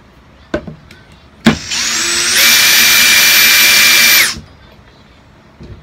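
A cordless combi drill in regular drilling mode whirs up to a steady high-pitched motor whine for about two seconds, then stops, with a couple of clicks before it.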